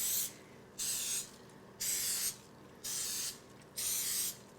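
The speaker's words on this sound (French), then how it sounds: "moi j'ai du spray à pâtisserie de l'huile non GMO" Four separate bursts of non-GMO baking oil spray hiss into muffin molds, each lasting about half a second, close and even, with quiet pauses between them.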